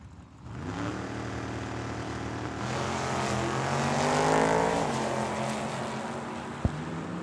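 Ford and Mopar drag race cars howl down the strip, their engine tones climbing as they accelerate, loud and steady, with a sharp click near the end.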